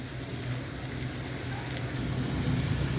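Masala spice paste sautéing over high heat in a pan for a desi magur fish and onion bhuna, a steady close sizzle and crackle that gets a little louder toward the end, with no talking.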